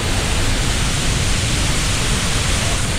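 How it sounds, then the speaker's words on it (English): Heard from the tunnels right behind Niagara Falls, the 50-metre waterfall pours as a thick, constant roar of broadband rushing water, loud and even with no talking. "We are right behind the waterfall."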